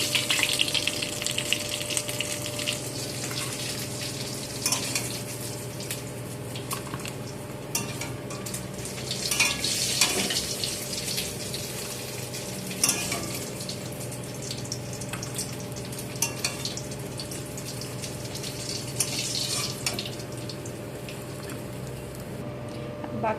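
Fish roe fritters sizzle in hot oil with a steady, close hiss and crackle, swelling into louder spitting bursts now and then.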